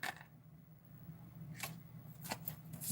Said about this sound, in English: Let me give it a bit of a shuffle here.